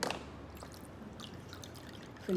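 Water poured through a funnel into a small-mouthed bottle, a faint steady trickle running for a couple of seconds in a quiet indoor space, with a brief louder clatter at the very end.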